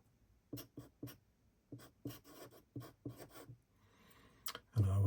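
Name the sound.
writing with a pen on paper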